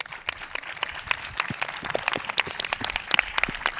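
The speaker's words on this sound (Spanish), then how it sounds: "Un aplauso para ellos, por favor" A seated audience claps for the speakers of a round-table panel on 5G security. The applause is close and fairly loud, with sharp separate hand claps layered into an uneven, lively patter lasting a few seconds.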